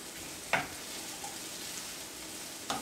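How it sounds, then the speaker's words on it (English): Onion, green pepper and garlic frying in a pan for Cuban black beans, a steady soft sizzle with a couple of brief utensil clicks. "you're just gonna fry the, you know, the onion, the green pepper, and the garlic for a little bit"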